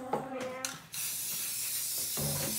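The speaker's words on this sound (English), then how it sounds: "Okay, that's it with the spray paint" A spray paint can hissing in one long continuous burst after brief chatter and clicks, close and fairly loud, with voices before and near the end.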